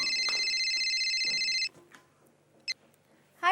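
Telephone ringing while a call is placed: a loud electronic ring tone trilling steadily for over a second and a half, then cutting off, followed by quiet room noise and a faint voice.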